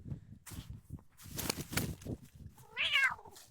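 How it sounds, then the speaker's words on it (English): A cat gives a short, fairly clear meow near the end, preceded by soft rustling and footstep-like shuffles at low volume. "Cute cat."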